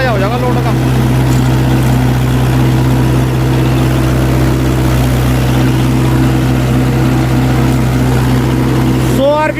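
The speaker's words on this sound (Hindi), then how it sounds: "ट्रैक्टर के साउंड से आपको अंदाजा हो जाएगा लोड का।" A Mahindra 585 tractor pulling a Lemken reversible plough in a field: a loud, steady engine drone with a deep constant hum, running continuously at a labored pitch, with faint voices mixed in.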